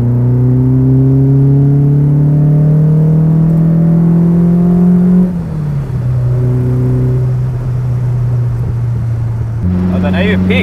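Tuned Lotus engine with an Arne Berg motor, heard from inside the cabin through a thin fibreglass wall, rising steadily under load, dipping briefly and then droning on loudly before climbing again.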